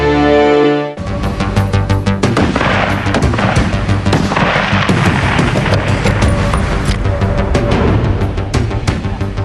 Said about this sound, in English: members of the U.S. Army's elite marksmanship team fire one of the most powerful weapons in their arsenal